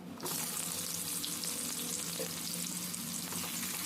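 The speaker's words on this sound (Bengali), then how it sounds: "এখানে পেঁয়াজটা হালকা ভেজে নিতে হবে" Steady, dense sizzling of chopped onion frying in oil starts abruptly and continues evenly, close and fairly loud, with faint stirring underneath.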